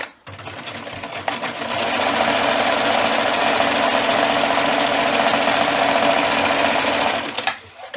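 A sewing machine runs a zigzag stitch on slipper pieces, a steady fast close mechanical whir sustained for several seconds before stopping.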